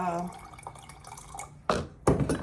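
Water poured into a two-quart glass jar while making fermented sweet potato kvass, with two short bursts of splashing pouring after a quiet stretch of faint kitchen noise.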